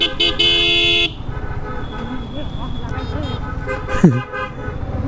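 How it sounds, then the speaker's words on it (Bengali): A loud, steady car horn blares for about a second, then gives way to busy road traffic and engine noise with a brief horn squawk later. "ভাইয়ের যে পপ হর্ন বাপরে বাপ"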